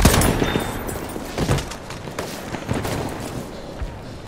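Bursts of machine gun fire crackle in a World War 1 battle scene, rapid volleys that are loud at first and then trail off into scattered shots and fainter rattles.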